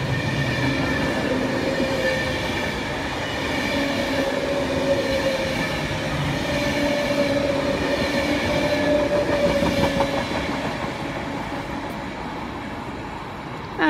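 Train passing through Milton Keynes Central station, a steady loud rolling rumble with wheel and rail noise running throughout, no voices.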